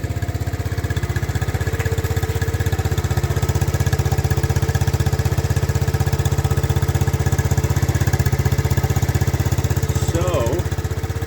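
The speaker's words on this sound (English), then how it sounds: "there is the ATC70, complete, running in incredibly restored condition." A restored Honda ATC70 three-wheeler with a new OEM carburetor and air cleaner runs at a steady, even idle, a close, continuous putter with a brief faint voice near the end.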